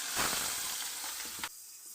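Chilli and spices hit hot oil in a pan for a tadka, giving a loud burst of sizzling and hissing that fades, then cuts off abruptly into near quiet.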